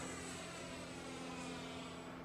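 An Arrows F-15 twin 64mm electric ducted fan RC jet climbs, giving a steady, high-pitched whine of fans at a distance, constant and unbroken with no voices over it.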